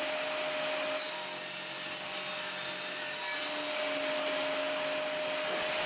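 A Bosch GTS 10 XC table saw with dust extraction cuts wood, giving a steady, loud continuous roar with a constant hum and no pauses throughout.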